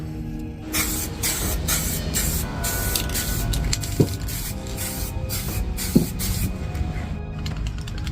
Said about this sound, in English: And then we'll spray the white parts with this